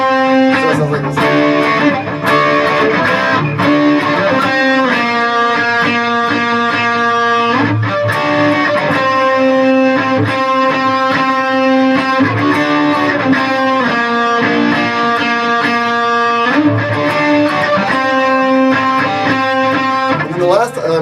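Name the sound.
distorted electric guitar playing riff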